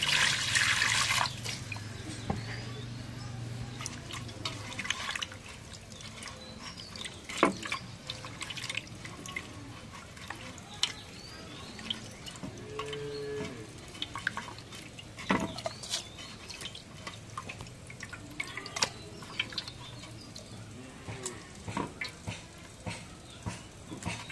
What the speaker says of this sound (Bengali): এখন মাছটা কাটা হয়েছে, এখন ধুয়ে নেই।